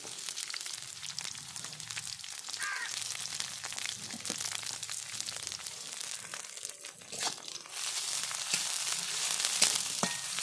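Crushed garlic and chopped green chili fry in hot oil in a pan for a greens dish, giving a continuous crackling sizzle with scraping stirs and crinkly pops, close and fairly loud, with no voices.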